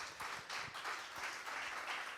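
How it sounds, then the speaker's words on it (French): An audience applauding at the end of a debate on artificial intelligence, a soft, distant swell of clapping that rises and falls over a couple of seconds. "On peut les applaudir très fort."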